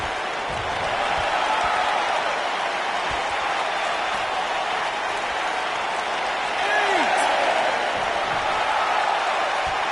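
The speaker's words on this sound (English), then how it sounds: "by the sound of this crowd, I think they're getting what they want" Arena crowd in the WWE 2K19 wrestling video game, a dense, loud, continuous roar of cheering and applause that swells slightly toward the end.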